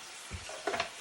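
Seasoned meat mixture with paprika, ginger and curry seasoning frying in a pan for a plantain lasagna, a soft steady sizzle with a few stirring scrapes near the end, close and fairly quiet.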